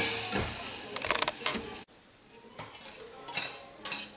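Metal pots and utensils clank and scrape close by as a boiling pot is taken off the stove, with a clattering lift and a few softer knocks afterward.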